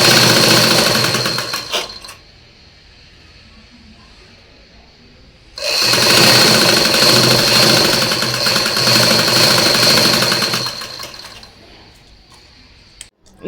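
Sewing machine stitching along the edge of a shirt collar backed with canvas interlining. It runs in two loud, close, steady bursts, one short and one about five seconds long, with quiet pauses between them.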